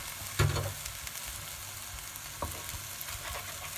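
Cantonese fried rice with eggs sizzles steadily in a pan as it is stirred, with a sharp utensil knock near the start and another scrape later.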